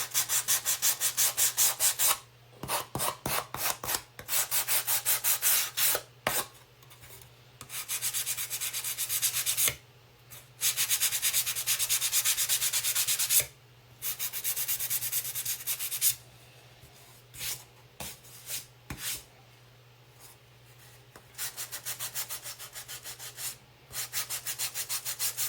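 Sandpaper rubs across a pumpkin in close, raspy bursts of scraping strokes, several seconds each, broken by short pauses, over a low steady hum.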